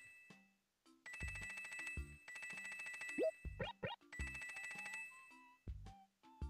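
Bright, tinkling pickup chimes ring out in bursts as bells are collected in Animal Crossing, mixed with short game jingles and cartoonish blips, clear and without talk.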